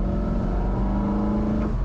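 A 2008 BMW M3 E93 engine pulls hard in fourth gear at full throttle on a mountain road, a loud, steady, close-up drone with no talk.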